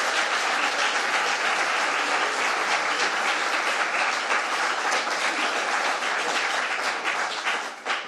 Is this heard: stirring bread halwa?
no